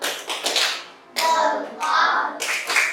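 Several short bursts of hand clapping from children in a thumb-clapping game, loud and close, in irregular rhythmic groups with brief gaps between them.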